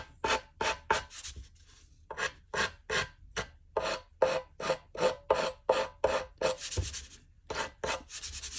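Hardened J-B Weld SteelStik epoxy putty on a busted Santa Claus figure is sanded in about fifteen loud, close rasping strokes, evenly rhythmic with a short pause near the start.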